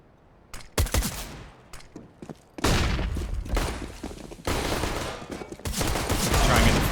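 Counter-Strike match on the Cache map: sharp bursts of gunfire, scattered single shots early then heavier sustained volleys, loud and close, with faint commentary underneath.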